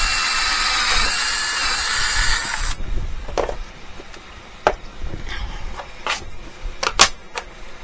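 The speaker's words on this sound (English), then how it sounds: "I'm going to drill these holes." A power drill whirs steadily for a few seconds drilling holes for a dive mask camera mount, then stops, followed by scattered sharp clicks and knocks.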